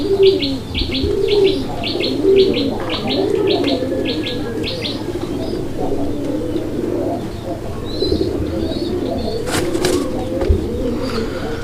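Large pigeons for sale at a market coo in low, continuous murmurs, with a burst of rhythmic high chirps early on and faint background ambience.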